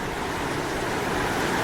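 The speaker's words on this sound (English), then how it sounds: "this is what they call the rapids" River rapids at Kafue National Park rush in a brief, steady wash of churning water, loud and broad with no pauses.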